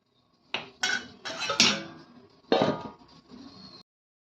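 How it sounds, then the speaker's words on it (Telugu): Pakoda pulusu is stirred in a pot with a few clinking metal scrapes, then a lid clanks down on top, close and otherwise quiet. "నేనైతే కలిపేసి మూత పెట్టేస్తున్నాను"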